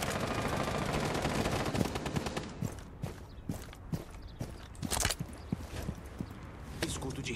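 Gunfire in the video game Rainbow Six Siege, repeated sharp shots and bursts scattered through the stretch alongside footstep-like thuds, with a voice talking over the game audio.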